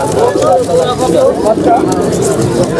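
Pigeons coo softly amid the bustle of a village pigeon market in Nazirpur, Bangladesh. Their low, rolling calls sit under close conversational voices and general crowd babble.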